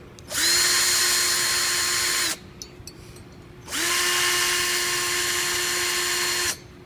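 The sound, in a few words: drill making a starter hole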